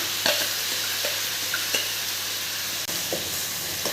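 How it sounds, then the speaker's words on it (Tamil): Ground masala sautéing in oil for mutton kuzhambu, a steady close sizzle with several short spatula scrapes against the pan. "நல்லா இந்த எண்ணெயிலேயே இன்னொரு வாட்டி நல்லா அந்த மசாலாவை வதக்கிடுங்க"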